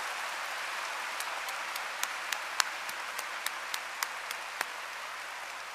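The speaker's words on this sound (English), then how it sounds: "Let's give the Roosevelt High School drum line another round of applause." Faint, distant crowd applause for the Roosevelt High School drum line at a general session, a steady wash of clapping with a few sharper, closer claps standing out.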